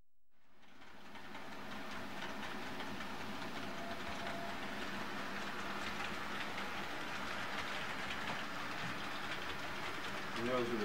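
An HO scale Santa Fe model train rolls steadily along the layout track, a soft continuous rumble with faint clicking that swells slightly as it nears.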